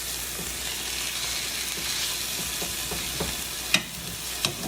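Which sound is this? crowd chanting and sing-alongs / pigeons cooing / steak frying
steak frying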